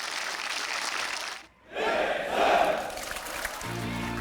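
Young military trainees enlisting in the air force let out a loud collective shout, which drops briefly to near silence and then rises again into a crowd roar with a swell of clapping. Voices and tonal sounds come in near the end.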